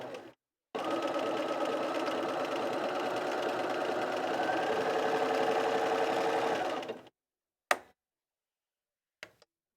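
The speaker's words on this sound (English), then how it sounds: "I'm going to just kind of gently pull this as we stitch around that circle there. So it's kind of overlocking it and stitching it all at once." A Bernina 350 sewing machine runs steadily for about six seconds, stitching and overlocking around a circle, with a dense rapid needle clatter, then stops, followed by two brief clicks.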